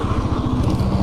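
A scooter speeding along a road, its engine putting out a steady, rapid putter close by with no other sounds.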